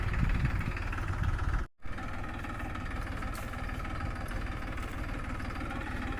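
A steady, rumbling tractor engine idles close by, low and continuous with a brief dropout, no voices present.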